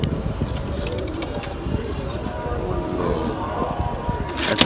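Pigeons coo in a rooftop loft among a large flock, with steady soft cooing and bird calls filling the background while someone talks over them nearby.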